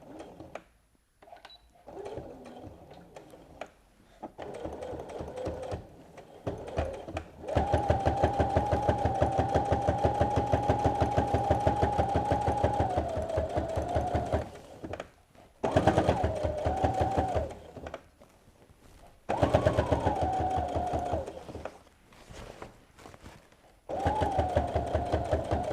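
A sewing machine stitches fabric for an apron in a rapid, even mechanical whir, running in long bursts with short pauses between seams; no one speaks.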